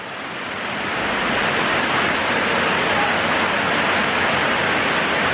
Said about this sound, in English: welcome to our first thunderstorm in the morning for the season